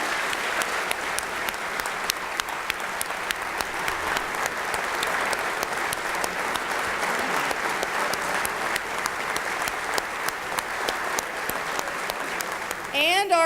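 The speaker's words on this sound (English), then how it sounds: "He deserves a round of applause for that." A large audience at the Oklahoma State of the State address applauds steadily and loudly for the whole stretch, dense clapping with crowd murmur underneath.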